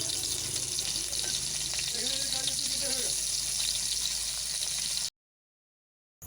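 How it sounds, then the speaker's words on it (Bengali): Fish sizzling in hot oil in a wok on a stove, a steady loud hiss of frying with brief faint tonal sounds in the middle, cutting to silence near the end. "তেলের মধ্যে মাছ দিয়ে মাছ ভেজে নেব।"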